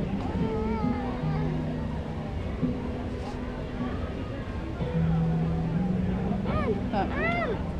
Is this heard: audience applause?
no